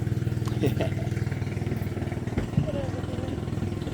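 A boat's steady, throbbing engine chugs close by as it arrives in Agusan Marsh, Mindanao, its rhythmic pulse continuous throughout, with faint clatter and small knocks over it.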